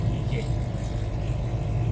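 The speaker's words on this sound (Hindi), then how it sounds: "किसकी बाइक का एग्जॉस्ट है भाई।" A motorbike's exhaust drones steadily and loudly on the Dehradun–Delhi expressway, a continuous low engine roar mixed with wind and road rumble throughout.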